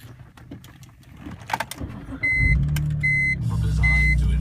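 A BMW E46 M3, freshly fitted with new tires, wheels, coilovers and bumper, starts for a test drive. After a few interior clicks and rustles, the engine catches and settles into a loud, steady idle inside the cabin, with repeating warning chimes over the engine.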